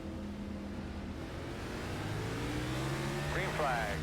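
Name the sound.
race cars engines revving at Martinsville, racing video game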